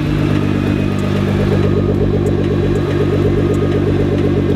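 A Nissan GT-R engine runs at a steady idle with its valves working, producing a loud, even, rapid mechanical ticking clatter over a low rumbling drone.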